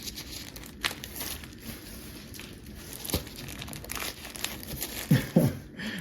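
A Bambu Lab A1 3D printer build plate is unwrapped from its plastic packaging. Soft crinkling and scattered rustles grow a little louder near the end, with no talking.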